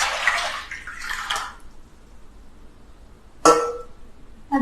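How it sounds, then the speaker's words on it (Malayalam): Water poured into a flat dish for soaking chicken, a short rushing splash, a second burst, then quiet before another brief pour. "ഒരു പരന്ന പാത്രം എടുത്തിട്ട് നമുക്ക് കുറച്ച് കോഴി മുക്കിയിടത്തക്ക രീതിയിൽ വെള്ളം ഒഴിക്കാം"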